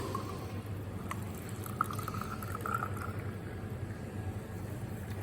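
Cold carbonated mineral water from a sanatorium spring is poured from a bottle, giving a steady soft hiss and fizz with faint drips, quiet and unbroken throughout, with no talk.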